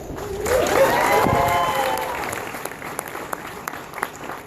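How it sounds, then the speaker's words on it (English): Audience applause at the 2014 Australian launch of Samsung's curved UHD TVs, a broad wash of clapping that starts strong and slowly thins out, with a few sharp claps standing out near the end and a voice over it. "We want a big round of applause."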